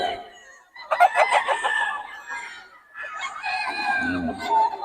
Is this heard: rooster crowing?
yes